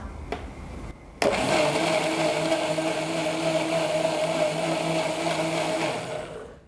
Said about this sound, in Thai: เราใส่ลงไปได้เลยค่ะ แล้วเราก็ ปั่นแค่แป๊บเดียวนะคะ